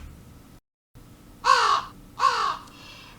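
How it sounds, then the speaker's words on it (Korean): Two loud, harsh crow caws ring out outside a quiet house, one after another with a short pause between them, following a brief stretch of silence. "밖에서는 까마귀 울음소리가 들린다."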